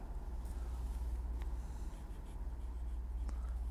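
Stylus tracing a buffalo head pattern on leather, a faint continuous scratchy drawing sound with a few brief clicks over a steady low hum.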